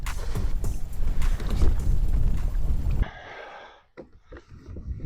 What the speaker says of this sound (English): It's windy as a mug